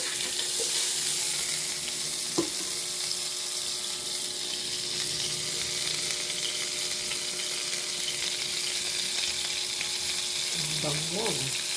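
A small piece of butter melting in a pan for chicken honey lemon gives a steady, bright sizzle that holds evenly throughout, with a couple of brief clinks and a short voice near the end.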